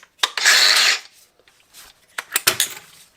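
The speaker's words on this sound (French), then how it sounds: "le plateau de ponçage, il est un tout petit peu plus délicat à aligner, mais voilà, là il est inséré" Sanding pad being clicked onto and released from a Bosch X-Lock angle grinder: a sharp click and a brief rub, then a few softer plastic-and-metal clicks and taps, close up with no talking.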